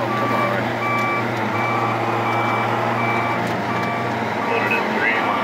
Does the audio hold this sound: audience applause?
no